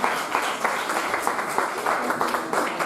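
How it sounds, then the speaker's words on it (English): A live audience at a vegan chef championship cook-off claps for a cooking team, dense and fairly loud applause that stays even and continuous throughout. "Give them a round of applause."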